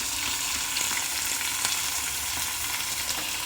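Chana dal, onion and tomato fry in hot oil, giving a dense, steady crackling sizzle that holds close and even throughout, with faint stirring scrapes and no voices.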